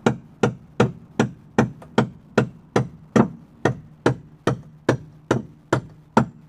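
Heavy hammer blows strike an Audiopipe Blazer speaker being broken apart, about eighteen loud, evenly spaced impacts in a steady rhythm, each sharp crack followed by a short ringing decay, with no voices.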